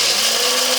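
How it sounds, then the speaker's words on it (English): A blender grinds pistachios with a steady, loud, high whirring roar, close and unbroken for under a second with no voices. "now I'm gonna grind these pistachios"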